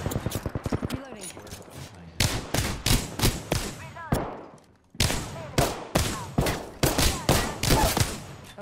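Video game gunfire: rapid, loud bursts of automatic shots in quick rhythmic runs, separated by brief pauses and one longer gap, with faint background game sounds.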